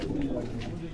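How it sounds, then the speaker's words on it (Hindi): Misse pigeons cooing in low, soft calls under a voice speaking over them. "ये मिस्से कबूतर कहलाते हैं"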